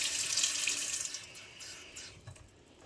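Water runs steadily from a household tap after pump pressure is restored, a soft continuous hiss and splash that fades slightly toward the end.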